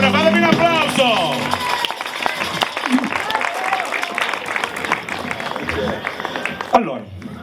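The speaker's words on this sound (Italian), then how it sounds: "Fatemi un applauso che siete meravigliosi" Outdoor summer concert crowd at a San Rocco festival in San Pier Niceto, Sicily, clapping loudly and continuously while a performer talks and calls out over the applause, with scattered cheers mixed in.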